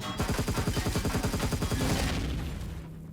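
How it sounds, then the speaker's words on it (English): A gun turret in the space survival game Empyrion Galactic fires a fast, steady stream of shots, loud and close, before the barrage cuts off and fades into quiet. "There's a gun turret right there."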